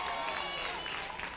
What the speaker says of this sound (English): of course you can hear the cheering in the background